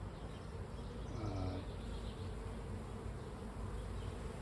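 Honeybees buzz steadily around an open hive during a frame inspection, a faint continuous drone with some nearer passing wingbeats and no voices.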